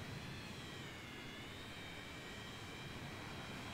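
Tupolev Tu-154 jet engines in Microsoft Flight Simulator 2020 during a snowy landing, a steady, even whooshing drone with no change in level throughout.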